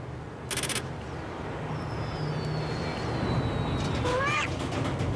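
Cats meowing in a cat food commercial, a couple of brief rising meows near the end over steady background noise, preceded by a short sharp burst.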